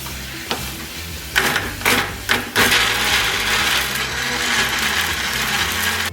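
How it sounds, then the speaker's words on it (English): Blender grinding crayfish and banga soup ingredients, a steady dense whirring roar with a few sharp bursts and knocks early on, close and continuous throughout. "So we're going to blend all of that and then set it aside."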